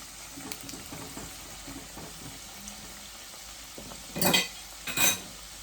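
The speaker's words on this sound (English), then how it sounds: "make sure that you fry your dumpling on both sides" Jamaican fried dumplings cook in a pan on a turned-down cooker, a soft low sizzle with faint clinks and handling noises, then two brief louder bursts of spitting oil near the end.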